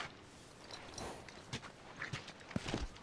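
Horse hooves clip-clop in a few uneven steps in The Last of Us video game, faint and close over a quiet ambient background with no talk.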